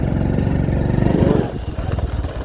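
A motorbike engine putters close by at a temple gate and moves off, its mid-pitched chug fading into a lighter idle rhythm.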